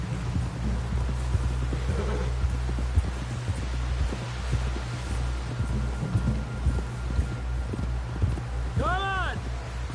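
A horse ridden in Red Dead Redemption 2 clip-clops in a steady, close rhythm of hoofbeats over a low rumbling bed, with voices talking over it.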